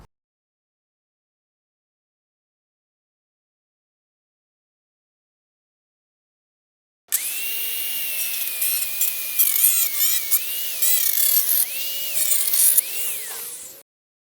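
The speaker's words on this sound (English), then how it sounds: "so I'm gonna cut this mesh to be 3 foot 4 inches wide by 6 feet 4 inches long" Wire mesh for a mole barrier under raised garden beds is cut, beginning after about seven seconds of silence with a close, continuous grinding rasp and shifting whining tones that run for roughly seven seconds before stopping abruptly.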